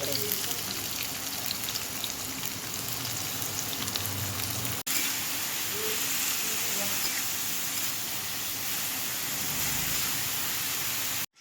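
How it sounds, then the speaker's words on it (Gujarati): Chopped onions fry in hot oil in a kadai, giving a steady, dense sizzle that continues for several seconds. A single sharp click breaks it partway through, and no talking is heard. "આપણે જે કાંદા આપણે સમારીને રાખેલા હતા તેને અહીંયા આનામાં ફ્રાય કરવાના છે"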